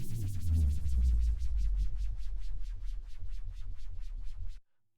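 A music part with added saturation and heavy low-end rumble plays solo, with a throbbing rhythmic pulse of repeated hits over a thick sustained bass that cuts off abruptly near the end.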